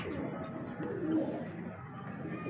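Golden pigeons coo softly at close range, a low, steady murmuring call with a faint swell in the middle.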